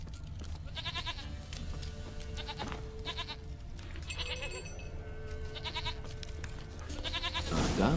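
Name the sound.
goat bleating in the video game The Witcher 3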